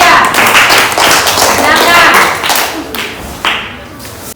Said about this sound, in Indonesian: Ayo, tepuk tangan untuk kelompok 3.